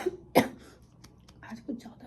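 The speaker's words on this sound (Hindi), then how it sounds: "आज कुछ ज़्यादा खांसी उठ रही है" A person gives one sharp, close cough early on, followed by softer throat sounds and a faint second cough-like burst, in a quiet room.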